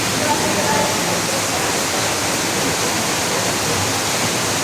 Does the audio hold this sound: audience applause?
no